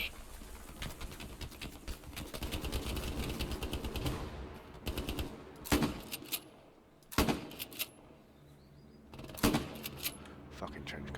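Trench gun blasts in the game Hell Let Loose, several sharp separate shots spaced a second or two apart with short quiet gaps between them, following a stretch of busier rattling and clatter.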